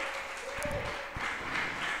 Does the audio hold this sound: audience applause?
yes